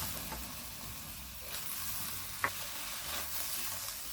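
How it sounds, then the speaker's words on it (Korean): Minced garlic scapes stir-fried together with fish cake in a pan give off a soft, steady sizzle, with a few sharper scraping clicks as the mixture is stirred. "다진 마늘종도 같이 볶아주세요."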